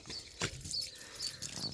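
A tiny puppy on a ranch whimpers in short, faint high cries, with a brief louder yelp, over low rustling and handling noise.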